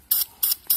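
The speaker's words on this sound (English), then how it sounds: "we're going to spray some spray paint all around this outer piece" Spray paint hisses from an aerosol can onto a wooden piece in three short, sharp bursts, evenly spaced and close up.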